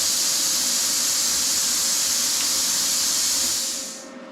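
Steady, loud hiss of compressed air rushing from a BestArc BTC500DP plasma cutter, continuous and unbroken before cutting off abruptly near the end.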